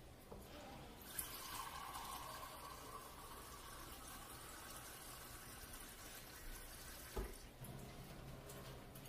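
Water running from a tap into a cooking pot for potato soup, a faint steady splashing stream that holds throughout, with a couple of soft clunks, no voices.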